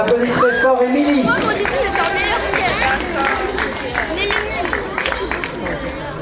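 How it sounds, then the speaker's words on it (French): A crowd claps and cheers for a child at a school drawing-prize ceremony in Antibes, a dense, steady wash of applause with chatter and voices mixed in throughout. "on applaudit très fort Émilie"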